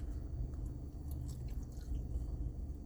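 Close, steady chewing of a Korean corn dog, soft squishy bites and mastication noises running continuously with no talk.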